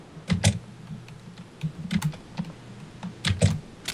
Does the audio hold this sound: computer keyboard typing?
yes